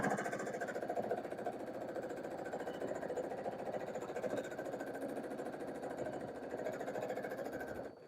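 A home sewing machine runs steadily while stitching a free motion quilt, a fast even mechanical whir with rhythmic needle ticking, close and continuous before slowing to a stop at the end.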